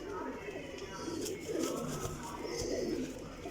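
Homing pigeons in a loft coo softly in low repeated phrases, heard under someone talking nearby.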